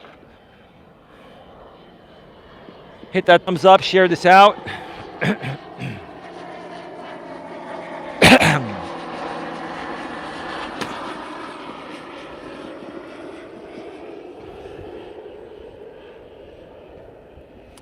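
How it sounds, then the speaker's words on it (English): A jet aircraft passes overhead outdoors, a broad steady roar that rises and lingers throughout, while someone talks briefly over it in the first seconds. "Here comes that nice jet. I can hear that thing."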